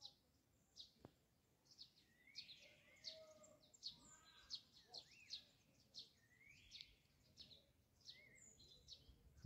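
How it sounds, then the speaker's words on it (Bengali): Small birds chirp and twitter around a quiet village in the Kalimpong hills of West Bengal, a faint, repeated series of short calls spread across the stillness with no talking. "পাখি ডাকছে"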